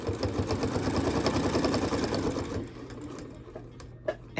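Sewing machine runs in a fast, steady rhythmic whir while stitching close to the edge of an oven dress towel, then slows and stops, leaving faint clicks.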